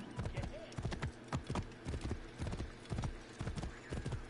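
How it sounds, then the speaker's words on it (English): Horse hooves clip-clop at a steady gallop in Assassin's Creed Origins, a regular rhythmic pounding close and fairly loud, with a brief whinny-like tone early on and no speech. "So my horse rides towards it."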